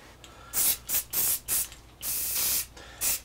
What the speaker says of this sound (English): let's spray it and see what happens.